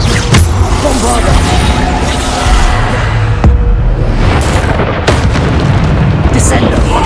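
The Bombarda spell in Hogwarts Legacy sets off loud, booming explosions in quick succession amid continuous dense battle noise, while a voice shouts spell names throughout.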